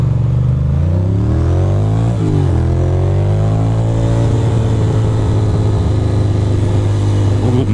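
A motorcycle engine revs hard on a freezing city commute, loud and close, pitch rising and falling through several throttle blips before settling into a steady growling idle.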